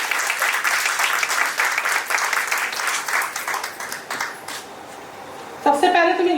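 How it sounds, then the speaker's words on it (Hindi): Guests applaud at a 50th wedding anniversary celebration in a hotel in Varanasi, a sustained round of clapping from a crowd that fades slightly before a voice cuts in at the end. "तो तालियां हो जाए इसके लिए।"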